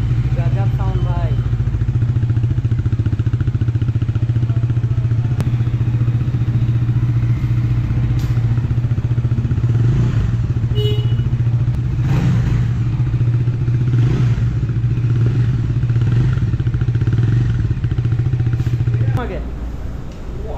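A brand-new motorcycle idling close by for a sound check, a steady low throb running for about twenty seconds with a few clatters and small revs, then cutting out near the end, while voices chat around it.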